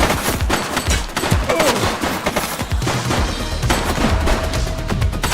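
Rapid bursts of gunfire from the video game The Precinct, loud and dense, shots cracking in quick uneven volleys throughout with barely a pause, set in a tense police shootout.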